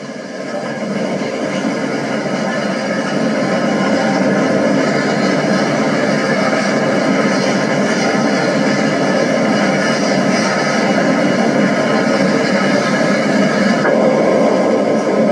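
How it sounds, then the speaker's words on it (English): A loud, continuous rumbling roar of Union Pacific 3985 steam locomotive laboring up the grade toward Sherman summit, dense and sustained with heavy chuffing texture throughout. "Climbing again, the engine is working the last few miles of grade to the summit at Sherman."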